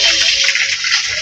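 Water runs steadily from a tap, a loud, close, continuous hiss and splash, likely into a basin for washing dishes.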